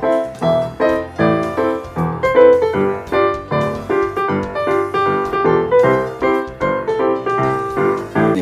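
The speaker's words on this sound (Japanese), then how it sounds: "これピアノの音ですね。" Piano music plays through a cheap Bluetooth stereo system, a steady stream of bright, fairly loud chords and melody notes in a regular rhythm, heard alone without talking.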